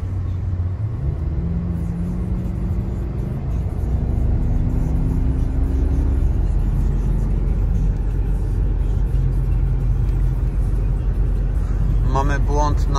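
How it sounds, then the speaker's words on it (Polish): A BMW E66 750Li with its N62B48 V8 drives along in a steady low cabin rumble, with the engine tone rising through shifts and road noise throughout. "Przejadę się kawałek, zobaczę jak to auto chodzi."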